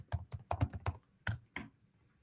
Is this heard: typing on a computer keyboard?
yes